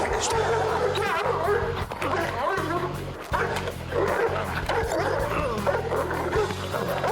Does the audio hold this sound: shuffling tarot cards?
no